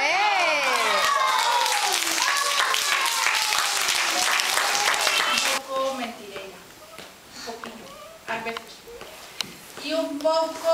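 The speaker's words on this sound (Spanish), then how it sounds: "¡Un aplauso, eh!" Children clap loudly together at a birthday celebration in a classroom for about five seconds, then the applause stops and children's voices and chatter carry on.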